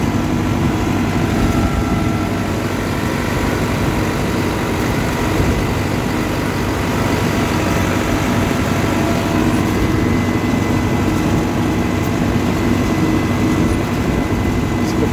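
Tractor engine running steadily while seeding a row of snow peas, a loud, continuous low rumble with no break.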